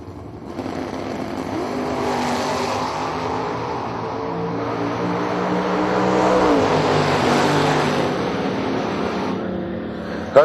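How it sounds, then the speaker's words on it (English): Drag racing cars launch off the starting line at a New Year Nationals strip meet, a loud sustained engine roar that swells and holds for about ten seconds before cutting off. "up on the wheelie bars off the starting gate"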